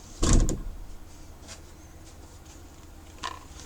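One solid thump of a door closing, followed by quiet room tone and a faint light knock near the end.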